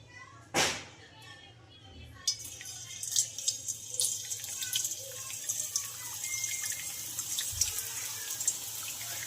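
Boondi batter of gram flour is dropped into hot frying oil: after a soft thump and a brief quiet, a bright, crackling sizzle bursts up and keeps fizzing steadily, close and fairly loud.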